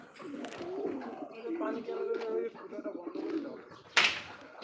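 Pigeons at a pigeon farm coo near the bathing basin, a steady low murmur throughout with a brief sharp burst near the end; people talk over it.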